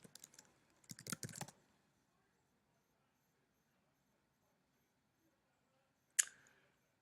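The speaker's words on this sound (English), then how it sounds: "let's see what happens if we write in Aaron Rodgers" Typing on a computer keyboard into an Excel spreadsheet: a short burst of quick key taps, then a long near-silence broken by a single sharp key click.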